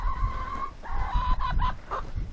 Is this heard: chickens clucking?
yes